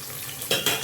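Onions brown and sizzle in a pan for moong dal, a soft steady frying hiss broken by two brief stirring scrapes near the end, fairly quiet with no talking.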